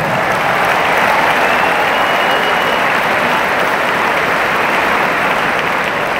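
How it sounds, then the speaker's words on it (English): Loud, sustained applause from a large arena crowd at a college basketball senior night, a dense continuous roar of clapping with no breaks, full and close throughout. "so big round of applause for them."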